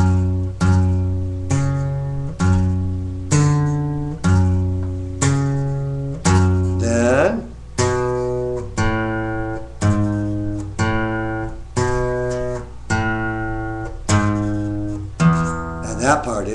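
An electric guitar plays a riff as a steady stream of picked single notes in a driving rhythm. The sequence repeats for over fifteen seconds, loud and close.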